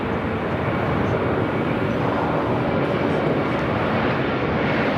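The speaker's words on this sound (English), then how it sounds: "Emirates already cleared for takeoff." Emirates airliner taking off on runway 24 left at LAX, a loud, steady broadband engine roar that holds without a break for the whole stretch.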